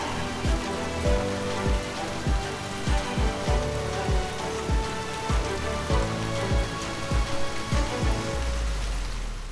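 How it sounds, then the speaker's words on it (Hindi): Steady, dense rain drumming on a surface with irregular heavier drips and thuds, continuous throughout and fairly loud. "बारिश बहुत तेज हो रही है।"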